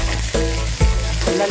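Mussels added to a hot pan for mussel soup, a loud close sizzle that swells in repeated bursts as the shellfish are stirred and tossed.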